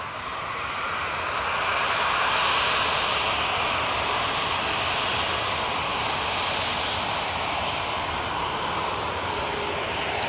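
Airliner departing Manchester Airport for Palma de Mallorca, a broad loud jet engine roar swelling and holding steady, heard from a distance with no talk.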